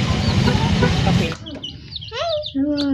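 Young chicks peep and cheep in short high calls close by after a burst of louder background noise, with a voice speaking briefly nearby.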